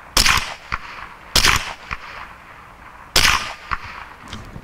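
Three sharp .22 rifle shots from a Marlin Model 60 SB, spaced over a few seconds at an outdoor target range, each followed by a short echo and faint mechanical clicks, with no talking.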